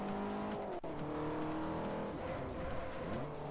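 Race cars in Forza Motorsport 4 brake hard into a corner, engines droning loudly and continuously while tires squeal briefly, with engine pitch dropping and rising again as they slow and power out.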